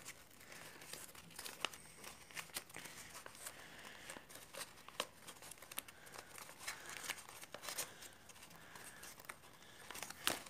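Paper being folded into a Recusant-class star dreadnought model, with steady close crinkling and crisp creasing sounds throughout, some sharp rustles and snaps of paper, no talking.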